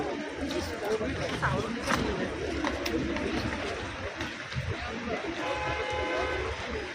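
A train rumbles through a railway station in St Petersburg, a steady mechanical din with pigeons cooing and people talking and chattering over it.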